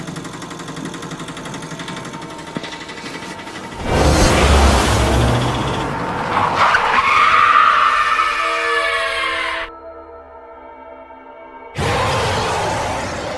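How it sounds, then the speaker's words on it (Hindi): Cartoon sound effects of a car skidding and taking off into the air in a Hindi animated horror story: a loud engine roar and rushing whoosh build for several seconds, cut off abruptly, then another loud burst follows after a short quiet gap. "रॉड गाड़ी को हवा में उड़ाने लगता है।"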